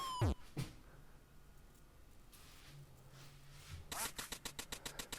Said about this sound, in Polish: Słyszę kaczkę, ale nie widzę.